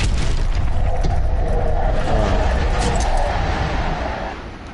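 A loud, sustained boom from an explosion in the video game Modern Warfare, a dense rumbling roar that holds steady for several seconds before easing off at the end, with no speech over it.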